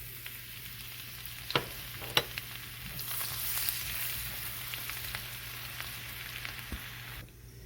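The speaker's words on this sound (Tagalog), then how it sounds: "Now, mag-isa na po tayo ng bawang." Garlic sautés in melted margarine for pork menudo, a constant close sizzle broken by two sharp utensil clacks early and light stirring scrapes, fading out at the end.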